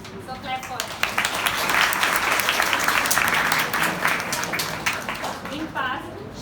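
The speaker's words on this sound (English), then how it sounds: "So clap for her." Audience applause at a medical lecture on breast cancer, a sustained dense patter of many hands building and then fading, with a voice speaking over it at the start and end.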